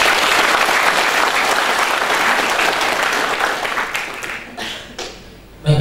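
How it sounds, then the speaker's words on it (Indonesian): An audience applauds the regional police chief at a university ceremony, steady dense clapping that fills the room before tapering off toward the end. "Kita beri aplaus untuk Pak Kapolda."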